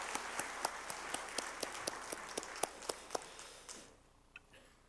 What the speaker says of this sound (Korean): 감사 영광의 박수 올려드립니다.